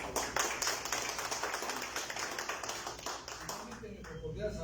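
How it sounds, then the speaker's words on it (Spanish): An audience at a formal forum applauds in welcome of a speaker, producing a steady wash of clapping that runs throughout and fades slightly toward the end, with voices mixed in. "el doctor Luis Molero Coca, a quien saludamos con fuerte aplauso."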